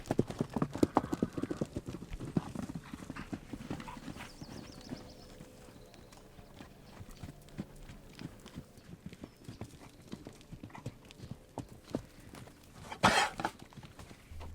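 Horses clip-clop at a walk on desert ground on a quiet morning, steady irregular hoof strikes close by, busier at first then sparser, with a louder burst near the end.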